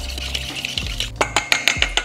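Eggs whisked in a bowl with butter, salt and black pepper, a quick run of close, bright clinks and taps against the bowl, growing sharper and more rhythmic toward the end.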